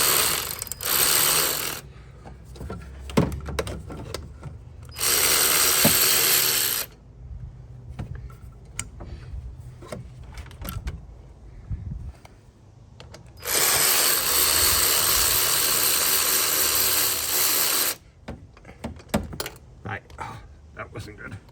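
Ratchet wrench working a turbo clamp on a Ford 6.0 diesel engine, heard as clicking and metallic clanks between bursts of louder broadband noise, with someone talking intermittently nearby.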